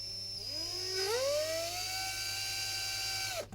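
A power drill bores a small hole into a pedalboard, a high whir that spins up, rises in pitch, then holds steady before cutting off abruptly, close and clear.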